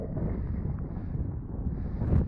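Steady low rumble of wind buffeting the microphone, continuous and fairly loud throughout the short stretch, with no voices.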